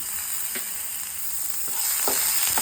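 Chili powder and a pinch of salt fry with carrot and cabbage in a pan for a Korean-style veg ramen bowl, giving a steady close sizzle with a few light stirring scrapes.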